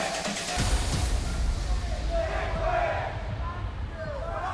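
A loud esports arena crowd at the Manchester Major semifinals roars and cheers in a continuous wash of noise, with some indistinct shouting rising and falling.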